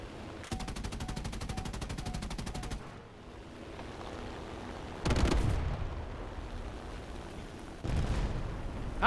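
Bombs exploding in the War Thunder helicopter combat game: a sustained rattling burst of rapid fire, then two separate heavy booming blasts a few seconds apart, loud and close, with no talk.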